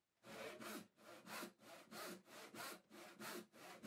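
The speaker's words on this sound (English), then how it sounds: "using a handsaw, I'll start to cut the wood in half, starting at that corner." A handsaw rasps through wood in steady back-and-forth strokes, about eight even strokes at a regular rhythm, close and clear.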